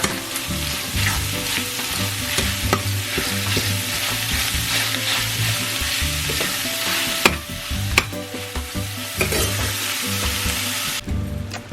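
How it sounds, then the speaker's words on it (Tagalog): Ground pork browns in a pan with onion, a loud, constant sizzle and crackle close by, broken by scraping stirs, with no voices. "And then just brown the ground pork."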